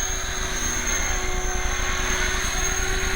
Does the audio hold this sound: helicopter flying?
yes